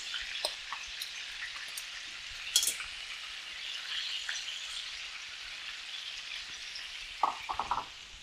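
Chicken thighs sizzling and crackling steadily in hot oil in a pan, a soft continuous fry with scattered pops, heard alone and fairly close.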